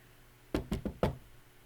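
Four quick knocks on a door, two close pairs in an uneven rhythm, sound sharp and fairly near in an otherwise quiet room.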